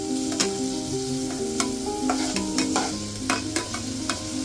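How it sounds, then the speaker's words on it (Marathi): Garlic and tomatoes sauté in a pan with a steady sizzle, broken by frequent clinks and scrapes of a spoon stirring close by, and no speech. "लसूण टाकून झाल्यावर आपण टोमॅटो टाकून घेऊया आणि मग त्याला पण परतून घेऊया"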